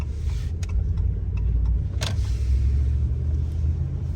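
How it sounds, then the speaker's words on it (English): A RAM 1500 pickup truck drives on a test drive, heard from inside as a steady low engine and road rumble with a few faint clicks and rattles. "So we're just gonna drive it around now, take it easy, and brake these pads in"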